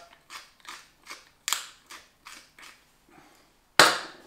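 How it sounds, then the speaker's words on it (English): Black pepper is ground with a hand pepper grinder: a series of about eight crisp, rhythmic crunching twists, close and fairly quiet, ending on one louder scrape, with no talking. "sprinkle in some salt, grind some black pepper"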